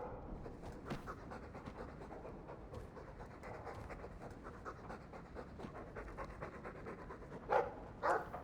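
A dog in the Dragon Age II video game panting steadily in quick rhythmic breaths, close and moderately loud, with a couple of louder huffs near the end.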